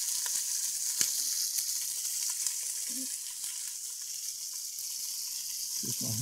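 Soup in a pot beginning to boil gives a steady, close, fizzing hiss of small bubbles, with a few faint clinks and soft knocks scattered through it.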